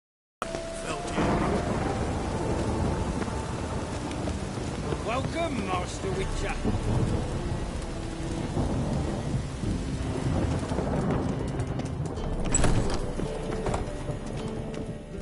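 Thunderstorm and steady rain in The Witcher 3 video game, with rolling thunder rumbles and hoof clip-clop under a brief spoken line, loudest rumble near the end.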